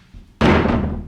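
A door shuts with a single close, loud slam and a short ringing decay, following faint rustling in a quiet room.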